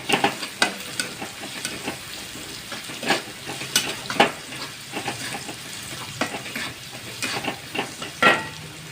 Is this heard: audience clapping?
no